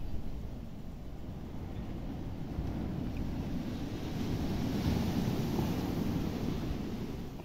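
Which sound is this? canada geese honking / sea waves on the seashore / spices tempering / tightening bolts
sea waves on the seashore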